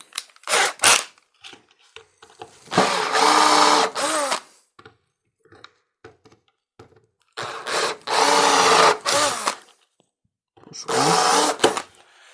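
A power drill whirs in three separate sustained bursts, close and loud, its pitch dipping as it bites, with short pauses and small clicks between.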